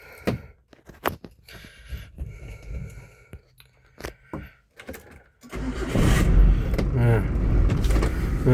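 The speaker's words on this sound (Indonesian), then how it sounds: "Nah, kita hidupkan mesin lor." A 2002 Isuzu Kuda diesel engine cranks and catches after some clunks and quiet moments, then settles into a steady, loud, smooth idle that fills the rest of the clip.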